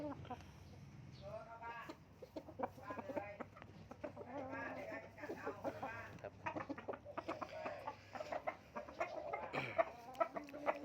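A young rooster just entering seven months old, with strong bones and tail feathers still coming in, clucks and calls in short bursts close by while someone talks over it almost throughout.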